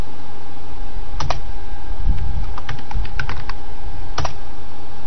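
Computer keyboard typing a new MySQL password, with short bursts of close key clicks over a steady fan hum.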